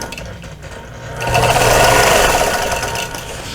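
A sewing machine stitches straight quilting lines across a patriotic quilt, its steady motor whir rising and running loud and close for a few seconds without talk.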